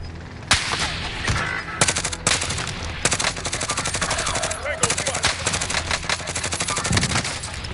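Gunfire rattles through a video game firefight, loud sharp shots and rapid bursts layered densely and continuously, with occasional louder cracks standing out.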